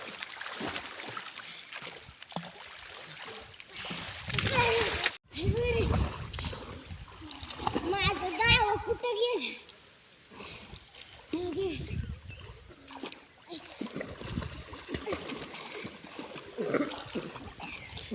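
A person jumps into a water-filled village well at midday to swim, with a loud splash crashing in about five seconds in, amid voices talking and calling nearby.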